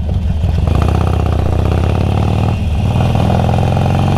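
A new TVS clutch motorcycle runs loud and close, its engine chugging in a steady rapid throb with a slight dip and recovery midway.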